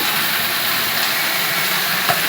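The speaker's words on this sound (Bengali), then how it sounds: "আলু ঢ্যাঁড়সটা আমি ভেজে নিচ্ছি।" Potato and okra fry in a pan with a steady, close sizzling hiss that carries evenly throughout, with no talking.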